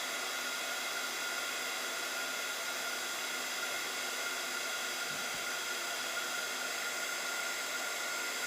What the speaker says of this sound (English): Now if it's blowing around too much, I can take the heat gun higher up.